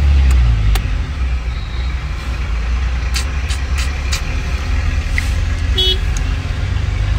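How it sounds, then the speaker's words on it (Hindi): Busy road traffic with a steady rumble of cars, trucks and buses, and several short car horn toots and honks sounding out over the continuous engine noise. "ट्रैफिक हर जगह, बस अभी ट्रैफिक मिल रहा है"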